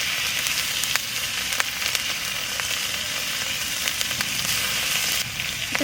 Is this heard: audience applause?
no